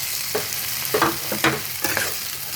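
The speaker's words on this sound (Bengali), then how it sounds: "এখন আমি এই কপি আলুটা এর মধ্যে দিয়ে দেবো।" Fried cauliflower and potato stirred into sizzling spice paste in oil for a fish curry: a loud, close sizzle with several quick scraping strokes of the spoon.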